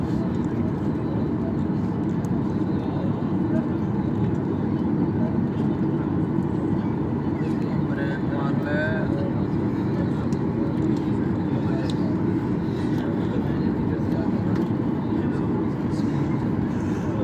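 Steady broadband roar of a passenger airliner cabin in flight between Islamabad and Dubai, a constant low drone filling the whole clip with voices talking faintly underneath.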